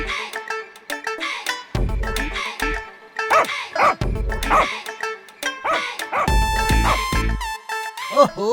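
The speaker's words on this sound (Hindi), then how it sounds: "अरे वो कुत्ते का पिल्ला क्यों चिल्ला रहा है?" A cartoon puppy barks and yelps repeatedly at night in a run of sharp, high, close yips and whimpers with short gaps between them, and a few tonal music-like notes sit under the barking.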